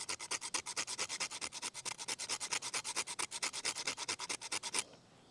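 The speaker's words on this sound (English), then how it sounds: "you just take your wood and you just work your wood on this. It's going to scrape off a lot of shavings." Wood rubbed hard against a Swiss Tech fire kit grater to make shavings, a fast, even rhythm of about thirty rasping strokes close up, ending abruptly into quiet.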